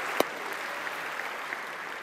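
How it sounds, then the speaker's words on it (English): Audience applause at the E3 presentation of Madden 16, a steady wash of clapping from a large crowd in a hall, one sharp clap standing out near the start, then the clapping holding at an even level. "Let's give a big round of applause for Robert Flores."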